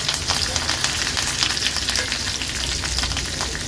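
Mustard seeds, cumin and asafoetida sizzle steadily in hot oil in a pan for a Maharashtrian meal, a dense, continuous crackle and fry at close range with no talking.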